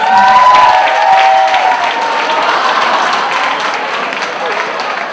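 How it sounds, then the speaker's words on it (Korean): A church audience at a university worship service breaks into loud, sustained applause to welcome a speaker, a thick wash of many hands clapping that begins with a voice and holds steady throughout. "한번 큰 박수로 환영해 주셨으면 좋겠습니다."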